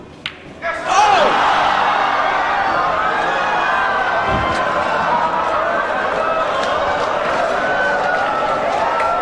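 At the 2006 World 9-Ball final between Ronato Alcano and Ralf Souquet, a sharp knock of pool balls gives way to a loud, sustained crowd roar of cheering and applause that fills the hall.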